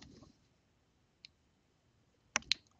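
Computer mouse left-clicks in a quiet room, a faint isolated click followed by two sharp, close clicks in quick succession near the end.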